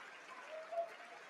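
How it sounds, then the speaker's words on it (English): Applause from lawmakers filling the chamber at the State of the Union address, a steady, faint wash of clapping that swells briefly near the middle. "they're all cheering themselves"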